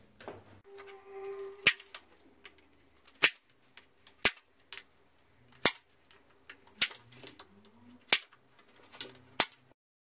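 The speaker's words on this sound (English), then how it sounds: "So let's staple this." A hand stapler drives staples through fabric onto a noticeboard, making about eight sharp, loud, close snaps at irregular intervals of one to two seconds, with quiet handling noises in between.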